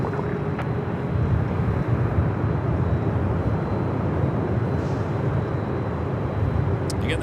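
An airliner arriving from Atlanta at LAX gives a steady broadband engine rumble at middle distance, continuous and even throughout.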